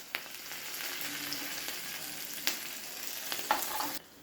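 Green chili-ginger paste and curry leaves sizzle in hot oil for batata vada, a dense, even hiss close by with a few sharp spatters and crackles, ending abruptly.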